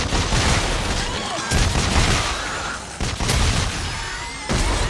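Sustained automatic weapon fire in the sci-fi horror shooter Dead Space 3, loud and dense with booming low end, coming in several long bursts separated by short pauses.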